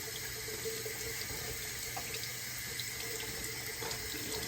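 Running tap water streaming steadily into a sink while giant pumpkin seeds are rinsed, a constant close hiss and splash with no pauses and no voices.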